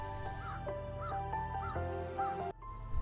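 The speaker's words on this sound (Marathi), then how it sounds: "पावसाच्या वातावरणात पाखरांचे आवाज किती छान वाटतं ऐकायला" Crows caw repeatedly, close and fairly loud, with other birds calling around them in rainy outdoor weather near a temple, while a low steady hum runs underneath.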